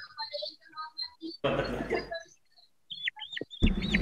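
Chickens cluck and call in short bursts close by, mixed with a burst of noise and people talking and laughing in the background.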